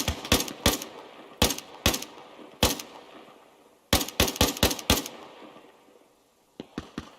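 Bursts of gunfire from allied soldiers in the military shooter game Arma Reforger, sharp cracks in quick clusters and single shots across the stretch, fairly close, with a short quiet gap before a few fainter final shots.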